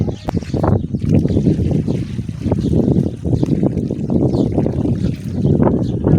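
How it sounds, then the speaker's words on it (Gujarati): Water gushes and splashes steadily into an outdoor trough for birds and dogs, a continuous, close, rumbling pour with uneven surges and no talk over it. "પાણી ભરવાનું ચાલુ છે પક્ષીનું"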